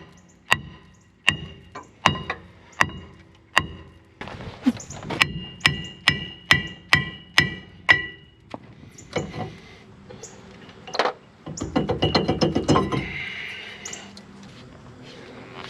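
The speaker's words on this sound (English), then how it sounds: "when I pound on the back of the rotor" A hammer pounds the back of a rear brake rotor on a 2004 GMC 2500 Duramax truck: about a dozen loud, evenly spaced metallic blows, then irregular clanks and a short rattling clatter.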